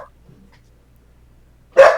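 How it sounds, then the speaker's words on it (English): A dog lets out a single loud, close bark near the end after a near-silent room. "1 second, my dog's barking."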